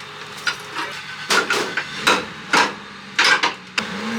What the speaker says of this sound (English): Maybe a hammer?